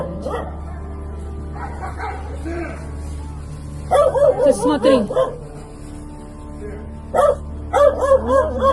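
A dog barks and yips in excited bursts, loud and close, mixed with a steady low hum and a person speaking briefly.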